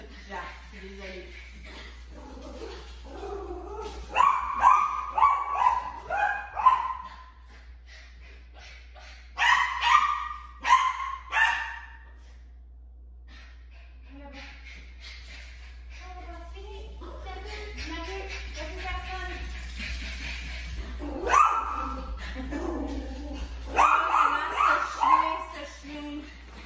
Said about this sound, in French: Personne à la porte, c'est pour ça qu'il jappe.